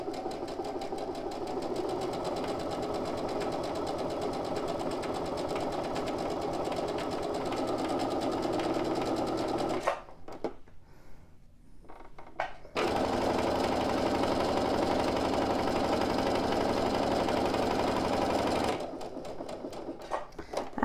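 A sewing machine runs a simple straight seam on a small pin cushion, a steady loud motor whir for about ten seconds, a short pause, then another long continuous run and a final brief burst.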